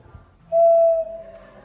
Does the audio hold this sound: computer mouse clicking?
no